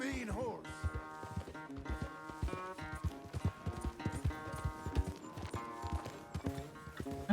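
Hooves beat steadily as a horse is ridden in Red Dead Redemption 2, a close, even clip-clop running throughout, with a snort at the start and game dialogue in the background.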